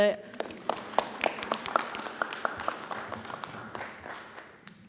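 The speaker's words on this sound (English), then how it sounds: "If you guys want to give them a round of applause." A room of attendees at a school board meeting claps for a student teacher and students, a steady mix of many hands with some sharper individual claps, moderately near, dense talk running through it.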